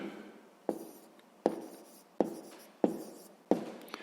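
Pen on paper while a maths solution is written out, five sharp strokes or taps at roughly regular intervals, each trailing off into quiet scratching, close and alone.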